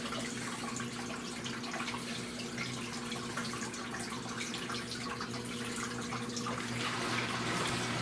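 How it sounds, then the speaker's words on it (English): An off-grid laundry washing machine draining its water, a steady gushing flow with a low motor hum underneath, moderately quiet and continuous throughout with no one speaking. "Sounds like it's getting rid of most of the water here."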